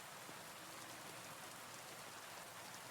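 Soft, even rainfall patters on surfaces in an unbroken wash, faint and distant-sounding, with no other sounds over it.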